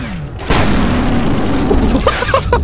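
A single loud shotgun blast in a video game, a sudden booming report that rings out into a sustained roar, followed by a few short clattering sounds.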